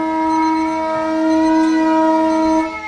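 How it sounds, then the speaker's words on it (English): A loud, sustained sports ground siren at a country football semi-final holds steadily for a few seconds, rich in harmonics, then cuts off near the end. "As the siren is about to go,"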